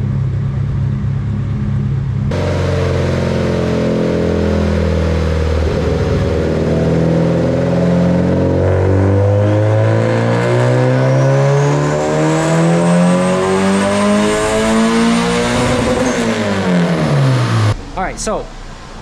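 A boosted Honda D16Y8 engine in an EK Civic coupe revs hard on a dyno, its loud note sweeping steadily upward through the rev range over many seconds before cutting off sharply near the end.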